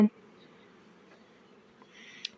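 Bees hum inside a hive body at an apiary, a low, soft, steady drone after a brief opening thump, heard close with no talk.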